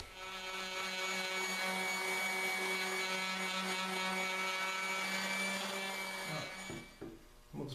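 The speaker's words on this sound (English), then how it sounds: "Onto the sanding." A steady power sander whirs with a sustained tonal hum, then winds down and stops near the end, with no voices.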